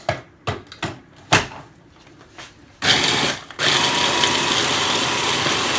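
A food processor blitzing a coconut oil mixture for Christmas yule logs: a few loud chopping pulses and thumps, then a strong, steady whirring motor that runs close and alone to the end.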